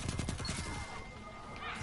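Rapid gunfire in the video game Destiny 2, a quick burst of shots in the first half second or so, then fading into quieter crackling effects.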